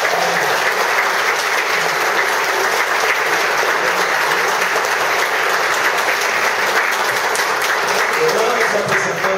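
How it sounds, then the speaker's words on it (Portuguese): A church congregation claps together during a worship service, a loud, continuous wash of many hands sustained for around nine seconds without pause. "quem concorda, dê salve de palmas ao Senhor"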